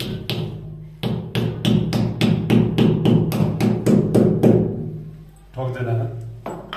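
Repeated sharp hammer blows, about a dozen in a fast steady run, strike a fitting while a commode and cistern are installed indoors, followed by a short scrape and rustle.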